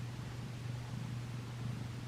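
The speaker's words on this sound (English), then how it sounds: "He's purring like a motorboat." Feral kitten purring loudly and steadily up close, a continuous low rhythmic rumble with no other sounds.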